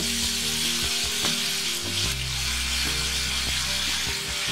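Ginger and garlic paste fries in a spice masala loosened with a little water for a pabda fish dish, with a steady close sizzle, a low background hum and occasional stirring knocks.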